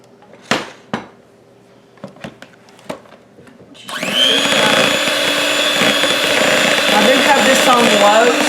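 An electric mixer on low blends flour into banana bread brownie batter, starting with a loud, steady whir after a few clinks and taps from a bowl and utensils, with a small wobble in pitch as it runs.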